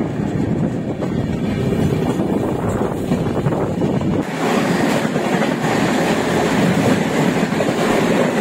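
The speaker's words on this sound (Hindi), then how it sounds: "और अभी ये 23 मिनट लेट चल रही है झारखंड संपर्क क्रांति एक्सप्रेस।" Jharkhand Sampark Kranti Express passenger train running, a steady loud rumble of wheels on rails with a rhythmic clatter and wind buffeting, continuous throughout with no talking.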